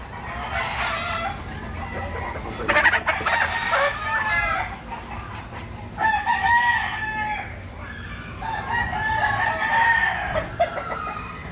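Roosters crowing repeatedly on a farm, several long, loud calls overlapping one another at moderate distance, with clucking and faint outdoor noise between them.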